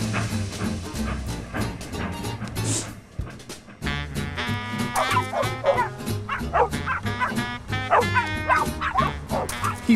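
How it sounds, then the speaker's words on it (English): Several dogs barking, yipping and whimpering in quick overlapping bursts, excited and playful, fairly close and continuous with a brief lull near the middle. "He played tag with other dogs."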